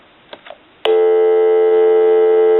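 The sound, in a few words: telephone dial tone from the tone generator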